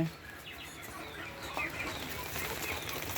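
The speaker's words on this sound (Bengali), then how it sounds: "এই যে এখানে কোয়েল পাখির বাচ্চা আছে" Quail chicks and native chicken chicks in a brooding pen give faint, scattered high chirps and peeps over a low, steady background rustle.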